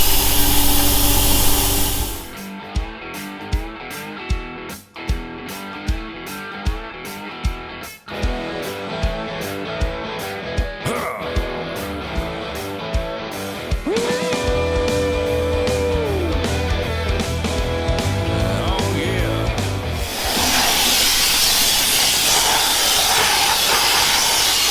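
An Aquablaster water blaster cleans an MF 1200 engine. A loud high-pressure hiss comes in rapid repeated bursts, then changes to a continuous roaring spray and ends in a steady hiss.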